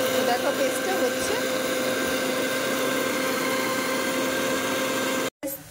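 An electric mixer-grinder runs steadily throughout, grinding a spice paste, with a constant motor whine and a busy whirring churn, loud and close; the motor cuts off abruptly near the end.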